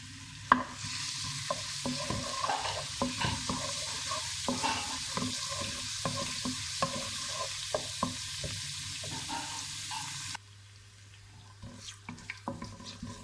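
Garlic sizzles steadily in hot oil while a utensil scrapes and clacks against the pan in frequent stirring strokes; the sizzle drops away near the end.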